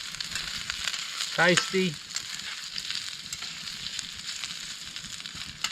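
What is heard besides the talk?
food frying in a pan on a Snow Peak stove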